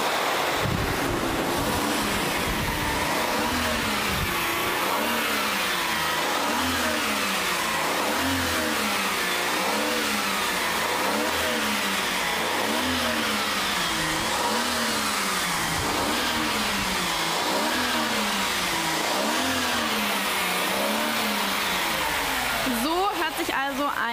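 A Porsche engine roars at an evening sound event, a loud sustained drone with rhythmic rising and falling revs throughout and a sharper burst at the end.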